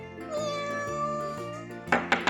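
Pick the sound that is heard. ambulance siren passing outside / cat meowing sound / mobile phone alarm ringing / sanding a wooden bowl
cat meowing sound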